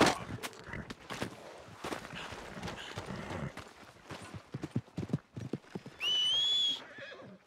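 Hooves clip-clop at a walking pace, close and crisp, followed by a horse's loud, drawn-out whinny near the end, in the video game Red Dead Redemption 2.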